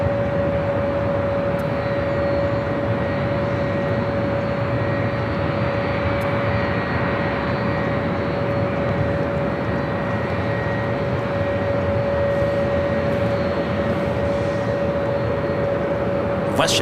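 Alaska Airlines Boeing 737-800 taking off at LAX: a steady, loud jet engine roar holds for the whole stretch with a sustained tonal whine running through it, while radio-style talk comes and goes underneath.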